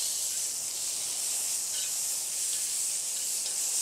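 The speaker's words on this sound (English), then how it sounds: "Let those sizzle away for a little bit." Pineapple and tomato sizzling in a hot pan, a soft, steady high hiss that carries on evenly and fairly quietly throughout.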